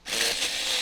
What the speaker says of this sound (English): This chainsaw, honestly, so good.